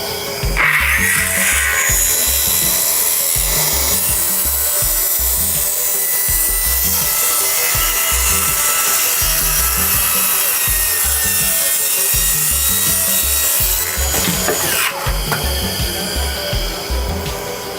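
A saw blade rasps steadily through wood along a guide track for about fifteen seconds, loud and close with an even grinding texture and no pauses, no voices over it.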